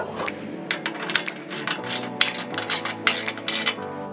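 Ratchet work bolting a safety chain bracket onto an LOD rear bumper on a Jeep JK with 4.5-inch bolts: steady, close mechanical clicking in uneven runs with sharper metallic ticks, moderately quiet and without speech.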